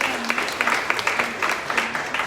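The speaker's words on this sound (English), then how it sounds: "Give yourself a round of applause." Audience applause at a Toronto LinkedIn Local networking meetup on diversity and inclusion, a steady mid-sized patter of clapping with sharp individual claps standing out, continuous through the short stretch.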